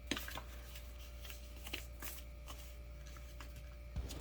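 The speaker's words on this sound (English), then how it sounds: "now I fold the paper in half, and I'm going to create the wings" Crisp, soft rustles and creases of paper being folded into a paper airplane, a few sharper crackles scattered through, close by in a quiet room.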